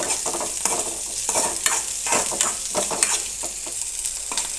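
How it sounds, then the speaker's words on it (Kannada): Masala for chutney roasting in a pan, with a soft sizzle under repeated scraping and stirring strokes, close by and without talk. "ಈಗ ಇದು ಮಸಾಲೆ ಚೆನ್ನಾಗಿ ಹುರಿದಿದೆ."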